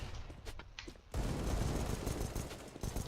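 Gunshots from a Desert Eagle pistol in Counter-Strike on the Inferno map, with a few quick shots near the start and then a loud, dense stretch of gunfire mixed with game noise.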